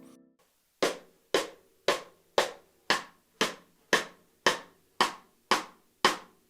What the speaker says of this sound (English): the added rim click, which is that clicking sound you hear